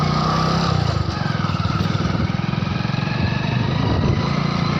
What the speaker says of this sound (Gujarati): બાઇક ચાલુ કરીને જઈએ